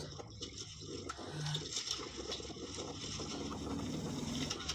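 Motorboat engine running out at sea in front of a small fishing boat, a steady low mechanical drone mixed with water wash, moderately loud and continuous throughout.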